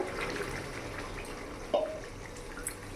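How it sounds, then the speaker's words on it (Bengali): Rinse water from a masala bowl that held an onion spice paste is poured into a simmering Punjabi-style chicken curry, a soft steady trickle with one brief splash near the end. "এবার এর মধ্যে যে আমি পেঁয়াজের যে মশলাটা বানিয়েছিলাম সেই মশলা বাটি ধোয়া জলটা আমি দিয়ে দেবো"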